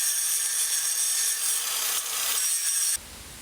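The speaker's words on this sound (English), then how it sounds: "I'm going to switch it out to a grinding disc now" An angle grinder with a grinding disc tapers steel rebar: a harsh, high-pitched metal grinding runs loud and continuous for about three seconds, then cuts off abruptly to a quiet background.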